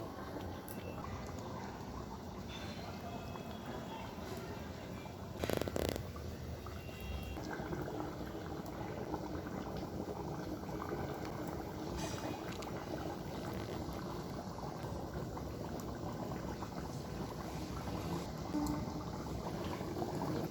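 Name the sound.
water bubbling and boiling in covered pan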